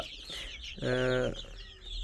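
A hen in a poultry shed stocked from a government hatchery in Malampuzha lets out a single drawn-out, tonal cluck over a steady background hum.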